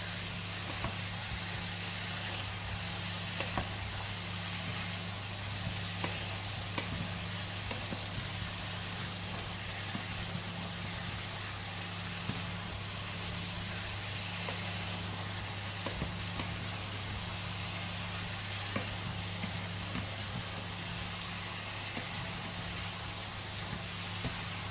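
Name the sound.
stirring courgettes with lardons in a sizzling pan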